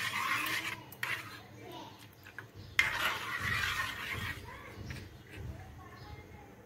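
A spoon scrapes and clinks against a pan while bread sweet is stirred over low gas, quiet kitchen clatter with soft talking in the background.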